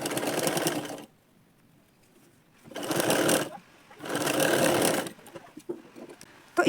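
A sewing machine stitches a folded blouse edge, running in three bursts of steady whirring separated by pauses, close and fairly loud.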